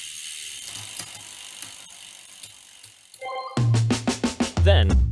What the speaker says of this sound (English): I have checked to ensure that the chain stays in place and shifts accurately.